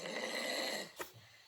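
A faint, drawn-out snore sound effect from a children's farm-animal story, followed by a brief soft snort at the end.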